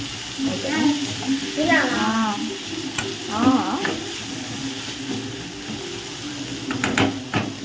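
Capsicum and tomato fry in oil in a home kitchen pan, a continuous close sizzle with occasional spoon scrapes, while someone talks over it.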